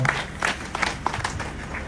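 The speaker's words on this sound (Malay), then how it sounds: "Satu tepukan gemuruh tahniah kepada beliau" Crowd at a UMNO political rally in Malaysia applauding, a dense wash of clapping with a few louder bursts and a low hum underneath, steady for about two seconds.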